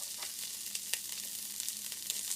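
Scallops sizzling in a hot pan, a steady close frying hiss with a few small pops and crackles, no talking.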